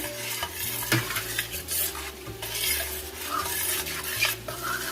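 Homemade Rotel-style cheese dip mixture stirred in a pot, with repeated scraping and soft spoon knocks against the pot over a low bubbling sizzle.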